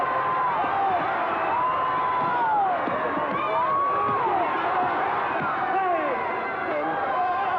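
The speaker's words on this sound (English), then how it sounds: "the crowd's booing Cecil" A large crowd at a 1950s–60s wrestling match booing, a dense, continuous roar of jeering voices and shouts that holds steady throughout.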